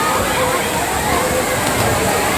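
River water flows steadily at a riverside swimming resort in Trece Martires, Cavite, making a continuous close sloshing wash with no break across the short span.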